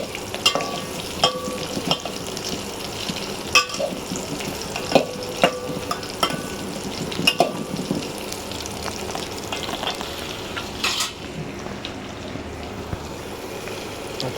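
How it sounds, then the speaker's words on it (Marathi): Whole spices sizzle in hot oil in a pan for a veg soybean biryani, with a steady frying crackle and sharp scraping clinks of a spoon stirring at intervals, close by and without talk. "आता हलवून घेऊ थोडं आपण"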